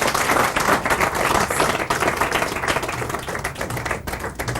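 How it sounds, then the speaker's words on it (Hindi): An audience at a national bravery awards ceremony bursts into sustained, dense applause, many hands clapping loudly and continuously throughout. "एक बार शिवांश के लिए तालियां"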